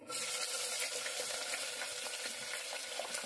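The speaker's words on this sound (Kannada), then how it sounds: "ಇವಾಗ ಈರುಳ್ಳಿ ಹಾಕ್ತಾ ಇದ್ದೀನಿ" Onions frying in a pan with cumin seeds in oil, a steady loud sizzle and crackle that holds throughout with no talking.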